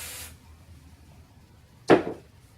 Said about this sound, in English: I'm going to spray the front a little.